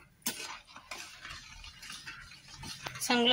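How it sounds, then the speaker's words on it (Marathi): A spoon stirs a mango Tang ice cream mixture with sugar and lemon in a bowl, faint irregular clinks and scrapes with a few sharper taps. A voice is heard faintly. "आता आपल्याला चांगलं मिक्स करून घ्यायचं आहे बघा"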